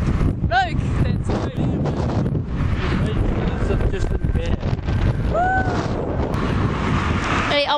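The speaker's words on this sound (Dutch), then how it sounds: "Oh, kut wind." Wind buffeting a microphone outdoors: a loud, continuous low rumble and roar throughout, with a few brief whistling tones rising above it.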